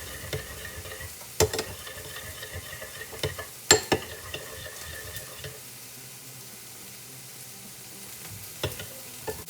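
Soy sauce being stirred into a low-carb, sugar-free orange chicken sauce in a pan, a soft steady scraping and swirl with a few sharp clinks of the utensil against the pan, alone without talk.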